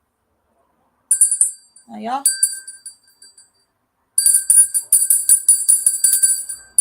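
A small handbell rung to snuff out a candle, sharp bright rings in two bursts, the second a longer run of rapid ringing, with a woman's brief spoken words between them.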